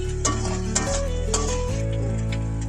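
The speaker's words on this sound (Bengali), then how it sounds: "আবারও নাড়াতে থাকবো।" Spoon stirring fish curry with chopped tomatoes and onion paste in a pan, soft scraping and clinking over a low steady hum, with a few light knocks.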